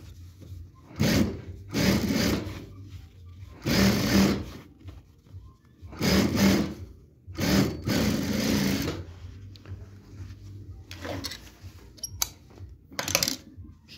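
A sewing machine runs topstitches on fabric in several separate bursts of rapid mechanical whirring, each lasting about a second, with short quiet pauses between them and no talk.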